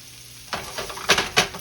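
Corned beef hash sizzles in a pan, a steady frying hiss that swells into a few louder scraping bursts near the end, close and with no talking.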